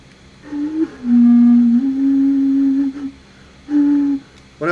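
Māori puoro, a traditional wind instrument, played in breathy hooting tones: one long, steady low note followed by a shorter second blow, with soft breath noise in between.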